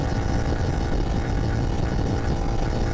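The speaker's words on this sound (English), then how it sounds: "The bike sounds really good." A CFMoto 450SS motorcycle cruising at highway speed gives a steady, loud engine rumble blended with constant wind roar, unbroken and with no talking.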